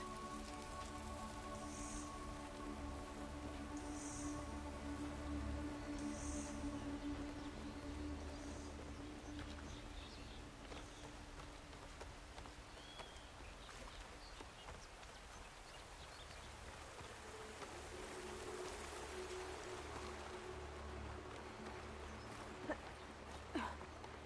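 Rain falls steadily in the open world of Horizon Forbidden West, a soft, faint patter that keeps up throughout, with occasional distant tones over it.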